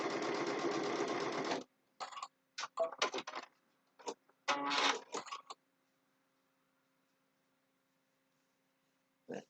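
Sewing machine stitching fabric bookmarks with a twin needle: a steady run of stitching at the start, then several short bursts, and finally quiet apart from a brief burst at the end.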